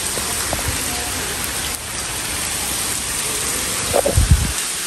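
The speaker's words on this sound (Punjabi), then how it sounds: "ਹੁਣ ਬਾਰਿਸ਼ ਲੱਗ ਪਈ ਹੈ" After a stormy morning, steady rain pours down in a dense, even hiss throughout, with a few dull thumps and knocks near the end.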